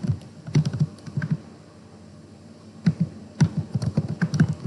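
Typing on a computer keyboard, near and clear: two bursts of quick irregular key clicks separated by a quiet pause, with no voice over them.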